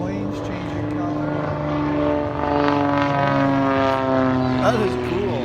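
Propeller airplanes fly at an air show, giving a steady droning engine hum with shifting tones, while people nearby talk over it.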